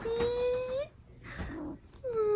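A pet cat meows at close range, one drawn-out call, a brief quieter sound, then a second meow starting, with no talk over it.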